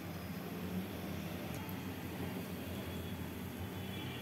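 Potato egg chops fry in hot oil, giving a steady, dense sizzle and hiss that stays constant and fairly quiet throughout.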